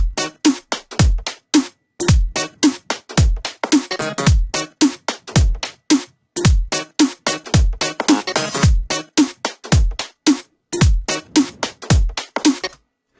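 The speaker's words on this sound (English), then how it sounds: "So now with the main drums and the funky sounding loop, we get something that sounds like this." Funky percussion drum loop built in Ableton: punchy kick drums and crisp hits in a tight, repeating syncopated pattern, loud and dry with short gaps between beats.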